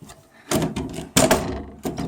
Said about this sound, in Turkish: bu kapının açılması birazcık zor da